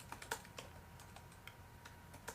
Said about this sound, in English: Typing is not my strength